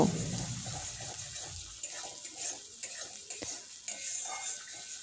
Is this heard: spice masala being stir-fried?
yes